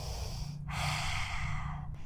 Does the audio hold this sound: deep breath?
yes